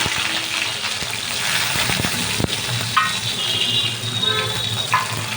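Garlic cloves, peanuts and black cumin seeds frying in hot oil in a pan, a steady close sizzle with sharp spattering pops and clicks of stirring, no speech.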